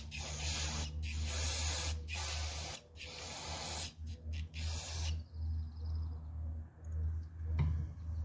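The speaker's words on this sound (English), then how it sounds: "Now that I smell like brake cleaner," Aerosol carburetor cleaner sprays onto a Jeep carburetor in several loud, hissing bursts, each a few seconds long with short gaps between them, followed by quieter spraying and a low steady hum underneath.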